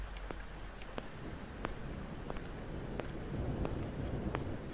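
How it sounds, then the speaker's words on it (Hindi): Insects in a forest at night, a rapid high-pitched chirping pulsing evenly over a steady hiss, with scattered louder clicks and no voices. "जंगल की कीड़ों की कीट कीट की आवाज कानों में सुनाई दे रही थी"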